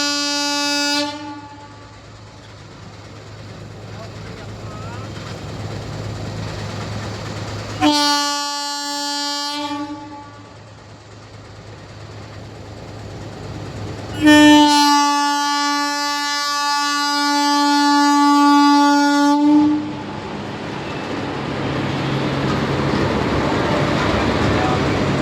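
A train passes with its horn sounding in three loud, long blasts, the last one the longest, over a continuous rumble of wheels and carriages that swells toward the end.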